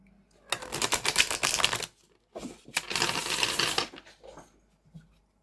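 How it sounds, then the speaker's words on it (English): A tarot card deck is riffle-shuffled twice in quick succession, each a dense crisp flutter of cards lasting about a second and a half, close and alone. "They have a lovely, lovely shuffle."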